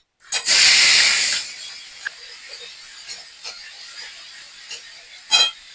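Onion paste drops into hot oil already sizzling with cardamom, cinnamon and cumin seeds for a Bengali doi katla fish curry, giving a loud burst of hiss that settles into a quieter sizzle with scattered pops and crackles.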